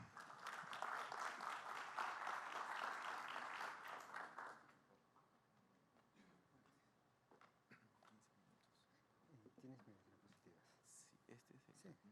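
An audience at a legal lecture gives a judge of the Arequipa Superior Court a brief round of applause, with fairly close clapping that fades out after about four seconds and leaves quiet room noise with a few small sounds.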